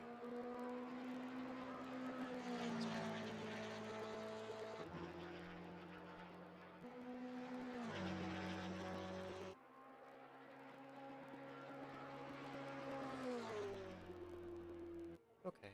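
GT3 and GT4 race car engines in an endurance race drone and shift through gears at a distance, pitch rising and falling in waves as cars circle a track, with faint talk underneath.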